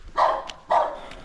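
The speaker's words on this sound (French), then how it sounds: "il y a des chiens partout, fatigant" Dogs barking outdoors: two loud, close barks about half a second apart, each sharp and full, with no talking over them.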